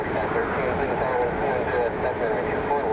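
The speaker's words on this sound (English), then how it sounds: "Spirit A320neo heading out." A Spirit Airlines Airbus A320neo departing Cleveland's airport produces a steady, broad jet roar that stays loud and even throughout.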